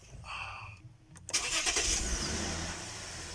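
A Toyota Crown with a 4GR-FSE V6, just repaired for a starter fault, cranks briefly and catches, settling into a steady close idle after a short pause; some quiet talk comes before it.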